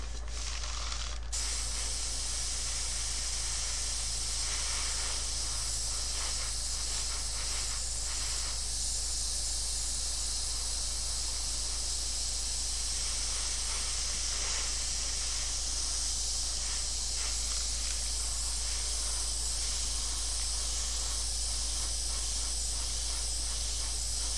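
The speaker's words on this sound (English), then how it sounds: "Again, following my own advice and spraying through these corners." Airbrush spraying light coats of paint onto a 1:48 Tamiya Lockheed P-38H Lightning model kit, a steady close hiss running continuously after a brief start, with no talk.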